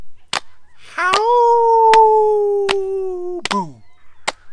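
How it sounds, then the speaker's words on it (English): A drawn-out howl swells and holds steady for a few seconds, punctuated by sharp, evenly spaced cracks before, during and after it. "Howl!"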